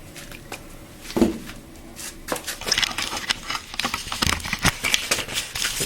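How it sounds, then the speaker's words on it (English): Plastic latch on the engine air filter box of a 2016 Acura ILX being worked open by hand, a run of small clicks, taps and rustles close by, with no talking. "And then just remove the latch."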